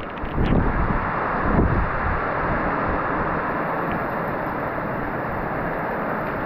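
Strong wind rushes and roars steadily against the microphone during a heavy rainstorm, with a few heavier gusts early on and no speech.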